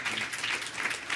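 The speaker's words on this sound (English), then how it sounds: "Give a round of applause to this #1 panel of the day" An audience claps for a panel at a veterans' storytelling event, a brief burst of fairly quiet, even applause heard from within the room.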